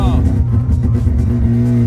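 A Mazda RX-7 rotary engine revs loudly and close by, a brief buzzing roar that rises then holds steady.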